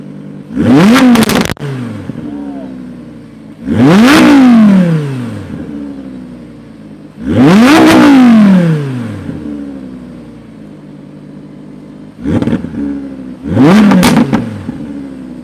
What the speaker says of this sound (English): let's do exhaust sound